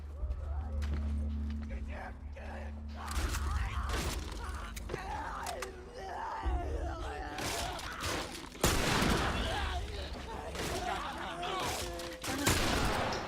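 Rifle shots ring out during a tense firefight in The Last of Us, sharp bursts scattered over game music, footsteps and mechanical clicks, with a voice talking now and then.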